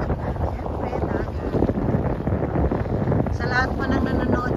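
Strong wind at a seaside beach and picnic area at Porteau Cove, roaring steadily into the microphone with a broad rushing buffet throughout, fairly loud and close.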